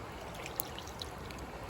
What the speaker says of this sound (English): But this is a little waterfall area.